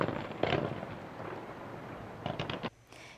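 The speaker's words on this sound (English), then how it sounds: "those fireworks went up as high as 25 meters into the sky" Fireworks launched as high as 25 meters into the sky at an outdoor display watched from all sides; a couple of distant booming bursts and crackles sound over a steady crowd-like background murmur.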